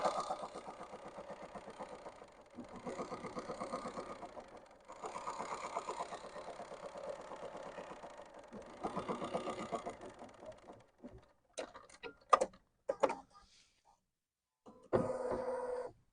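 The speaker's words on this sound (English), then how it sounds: "I'm going to have it stitch out the basting box" A Bernina embroidery machine stitches out a basting box for free-standing lace, running in several steady, humming bursts with brief pauses, then a few scattered clicks and a final short run, all fairly quiet.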